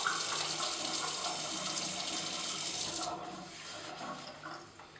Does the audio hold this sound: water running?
yes